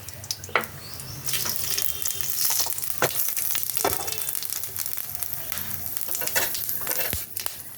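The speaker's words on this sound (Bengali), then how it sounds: "এখন দেবো একটা তেজপাতা, দেবো একটা শুকনো লঙ্কা, আর দেবো এটা ফোড়নে 5 ফোড়ন।" Bay leaf, dry red chilli and panch phoron spit and sizzle in a spoonful of hot oil, a steady frying hiss broken by sharp crackles and pops, close and alone.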